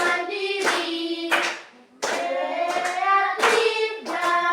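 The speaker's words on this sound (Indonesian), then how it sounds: "tepuk tangan untuk kalian" A class of fifth-grade children claps hands in short, sharp rhythmic bursts, close and loud, mixed with sustained tonal sounds between the claps.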